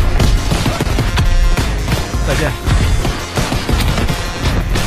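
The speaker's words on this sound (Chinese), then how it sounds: "这所有的枪声都是百分之百模拟现实，包括手榴弹。" Loud, dense gunfire and explosions from the video game Call of Duty: WWII, with rapid bursts of automatic shots and heavy impacts crowding together. A voice speaks briefly.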